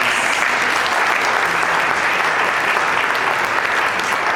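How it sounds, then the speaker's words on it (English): A tribute event audience gives sustained applause, a thick, even roar of many hands clapping from start to finish with no break. "the loudest applause."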